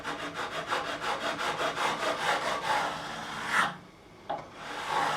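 A metal file bevels the fret ends on a Fender Stratocaster neck during a refret, rasping in quick, even back-and-forth strokes close up. The strokes stop partway through, followed by a short knock and then quieter scraping.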